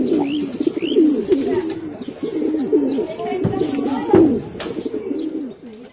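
Racing pigeons in a loft cooing in low, rolling, repeated calls close by, with faint chirps and a brief flutter of wings, and someone talking over them.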